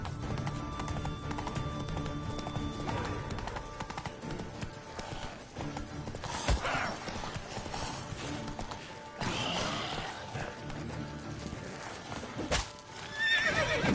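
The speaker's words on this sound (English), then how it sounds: "Ah, pinche caballo inútil." In The Witcher 3, the horse Roach gallops with steady clip-clop hoofbeats and lets out a neigh, set against game ambience at moderate volume.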